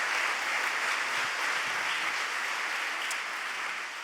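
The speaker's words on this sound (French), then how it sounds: "Un grand merci à Louis, je pense qu'on peut l'applaudir." An audience at a Moodle conference session applauds a presenter, a dense, steady wash of clapping that holds for about four seconds and fades slightly at the end.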